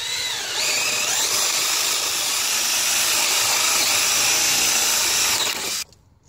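A power drill whines steadily and loudly for several seconds while drilling a hole during a reinforced retaining wall and concrete pad build, bright and hissing, then stops abruptly.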